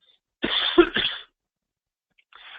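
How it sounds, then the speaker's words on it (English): A short double cough, close and clear, followed by silence and a faint trailing sound. "I'm going to cough just a second."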